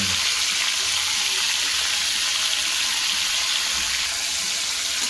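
Chicken fries in hot oil for dum biryani, giving a loud, steady, close sizzle like a constant hiss that runs unbroken through the clip without talking.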